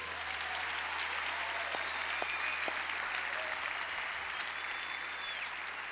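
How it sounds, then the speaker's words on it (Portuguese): A church congregation at a youth service applauds steadily and evenly throughout, a continuous dense wash of clapping from many hands with no speech over it. "vamos aplaudir o Senhor por eles?"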